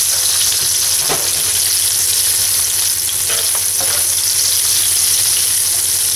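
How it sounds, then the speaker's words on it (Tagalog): Fried onions sizzle in oil alongside boneless milkfish for bangus bistek, a steady broadband crackle with a few stirring scrapes and clinks, close and loud with no talking. "Then, ibalik natin yung naprito na natin sibuyas"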